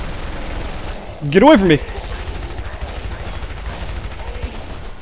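A chain gun firing in the Killing Floor video game makes a rapid, low rumbling stream of shots that continues throughout, briefly covered by a loud shouted voice.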